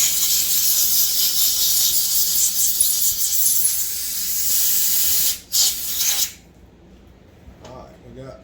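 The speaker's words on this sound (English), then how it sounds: "I'm gonna stick the brake cleaner straw in here and it's spraying" Brake cleaner sprays through a straw into the carburetor of a McCulloch ProMac 800 chainsaw, a loud continuous hiss for about five seconds, then a short second burst before stopping.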